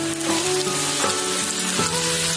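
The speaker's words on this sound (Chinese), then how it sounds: "再加入1勺豆瓣酱，继续翻炒，炒出豆瓣酱的红油" A spoonful of chili bean paste is stir-fried in hot oil with scallion, ginger and small chilies, making a loud, close, continuous sizzle broken by a few scraping strokes of the spatula, with no talking.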